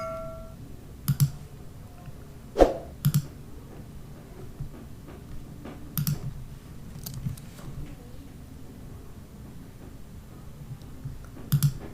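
Mouse clicks in the Canva design app come as sparse, sharp, close single clicks and short double clicks, scattered several seconds apart over faint room noise.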